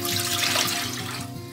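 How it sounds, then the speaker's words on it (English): Water runs steadily from a tap into a cooking pan for chicken pot pie, a continuous close, fairly loud rushing splash lasting under two seconds with no talking. "get some water in"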